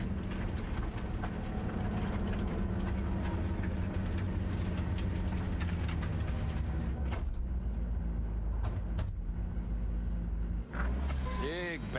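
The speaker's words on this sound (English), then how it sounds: "maybe we should just hijack the train" A train rolls along rails in the video game Cyberpunk 2077, a heavy, steady low rumble that runs the whole time, with voices talking over it and brief whooshing sweeps near the end.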